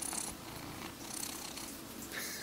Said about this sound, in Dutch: Maar dan is ze altijd heel blij dat ze me ziet en dan begint ze meteen te spinnen